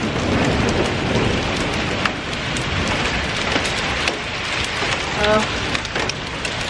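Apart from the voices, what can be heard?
heavy rain and hail in a thunderstorm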